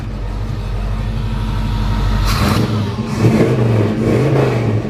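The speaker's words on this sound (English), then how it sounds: "Give it a couple revs here." A 1972 Chevrolet Chevelle Super Sport convertible engine idles steadily, then revs up sharply midway, with a couple of rising throttle blips before settling back down.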